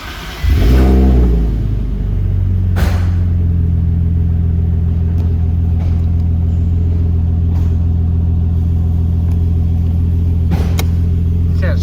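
A Nissan 370Z/G37 running after a fuel pump assembly change: a close engine start and brief rev that settle into a steady, loud, low rumble with a few faint clicks.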